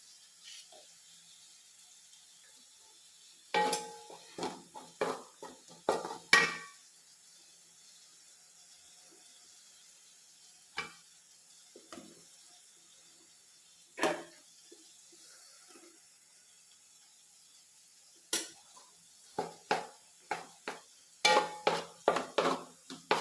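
A spoon scrapes and clinks against a pan while cooked ration-shop rice is stirred and mixed, in scattered bursts of metallic clatter separated by quiet pauses.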